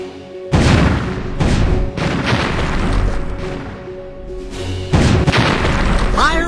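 Cannon fire at pirate ship nets in Disney's Villains' Revenge video game: several loud booming shots in an uneven sequence, each with a rolling tail, and a voice speaking between them.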